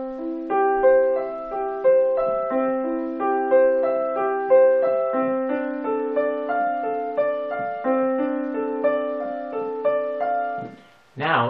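The first four measures of Bach's Prelude in C Major on piano, a continuous stream of arpeggiated chords with a steady pulse, played close and clean, then a brief spoken voice right after the music stops.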